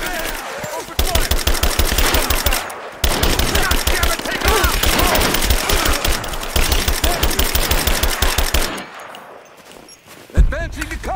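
Loud automatic gunfire rattles in long rapid bursts during a firefight in Rise of the Tomb Raider, with brief pauses between volleys and shouted voices heard beneath the shots.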